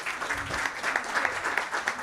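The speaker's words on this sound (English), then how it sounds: "A round of applause for the panelists." Audience applause for panelists at a conference on AI strategies for jobs and economic development, steady moderate clapping from a mid-sized crowd, fairly close and continuous.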